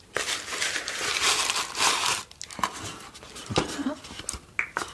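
Close, crisp crinkling and rustling of paper as a rose candle is unwrapped from its little paper wrapping, with bursts of crumpling and softer handling sounds.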